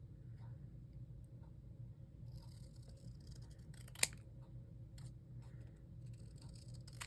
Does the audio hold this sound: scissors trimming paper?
yes